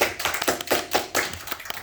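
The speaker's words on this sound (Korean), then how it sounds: "박수 우리가 함께 하겠습니다." A church congregation clapping during a Sunday service, a short run of hand claps that swells in waves and stays close and fairly loud with no talking.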